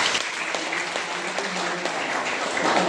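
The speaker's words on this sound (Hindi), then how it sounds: "एक बार उनका जोरदार तालियों के साथ" Audience applause at an inauguration ceremony for a vocational training course, a dense, steady wash of many hands clapping at even loudness for about three seconds, with faint voices mixed in.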